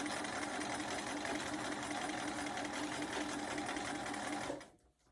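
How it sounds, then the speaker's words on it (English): A sewing machine stitches a quilted mug rug, running in one steady, loud, close drone for most of the clip before stopping abruptly near the end, with no voices. "we're going to sew all the way down to the next corner"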